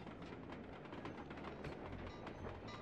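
A train rolls past in the video game Sly 2: Band of Thieves, a steady dense rumble with clattering wheels carrying on without a break, close and fairly loud, with no one speaking.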